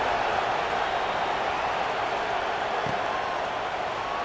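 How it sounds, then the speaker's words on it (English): Steady, dense crowd buzz from a stadium in EA Sports College Football, a continuous broadband roar held at an even level throughout with no clear speech on top. "this crowd is buzzing after that last score"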